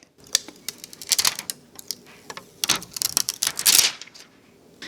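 Protective plastic peeled off the back of an Asus TUF RTX 3080 Gaming OC graphics card, a close series of crisp crackling rips and snaps in quick irregular bursts, ending in a longer crinkly tear.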